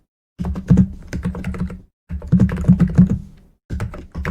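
Rapid clattering keystrokes on a computer keyboard come close and clear in three bursts, separated by short silent pauses.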